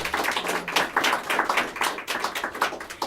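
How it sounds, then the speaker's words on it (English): Audience applause for the budget director and her team at a Prince George's County FY 2016 proposed budget event: dense, sustained clapping from a room of people, steady and fairly loud throughout with no talking. "And let's give her a round of applause"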